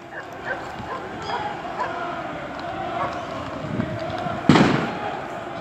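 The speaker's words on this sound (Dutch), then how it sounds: "Er is vuurwerk." Fireworks and firecrackers bang amid a tense crowd outside an MVV versus Roda football match with mounted riot police nearby, sharp pops and one loud burst near the end over steady crowd noise, dog-like yelps and talk.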